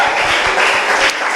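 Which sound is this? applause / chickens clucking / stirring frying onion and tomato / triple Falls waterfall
applause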